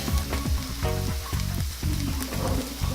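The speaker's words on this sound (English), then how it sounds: "Throw some minced garlic in here." Minced garlic and potatoes sizzle and fry in a pan, with a steady dense crackle and a few scraping stirs rising through it, close and fairly loud with no talking.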